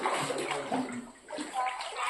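Floodwater rushing in after heavy continuous rain in Venkatagiri, a steady close wash of flowing water with splashy texture throughout, with faint voices in the background.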